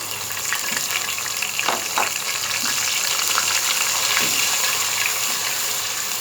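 Blended onion and green chilies sizzle and crackle steadily in hot oil, with a few soft scrapes of a spoon stirring over the continuous frying hiss.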